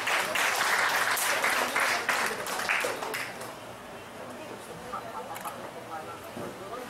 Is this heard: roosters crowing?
no